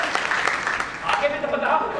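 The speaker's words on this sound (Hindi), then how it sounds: "यस जोरदार तालियां दीजिए" An audience at a network marketing training session in Meerut gives a burst of applause, a short dense patter of clapping mixed with voices and talk.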